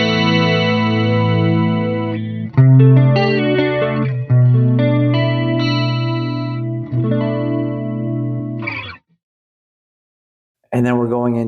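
Electric guitar in an 80s studio rack tone on a Quad Cortex, with a chorus effect made from a ±9 cent fine pitch shift, ringing chords and sustained notes with a shimmering, doubled quality, ending in a short silence before another strum.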